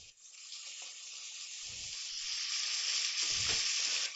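Chopped tomatoes hit a pan of sautéed onions and green chillies and sizzle in hot oil, a bright continuous hiss with a couple of soft stirring knocks, close and alone.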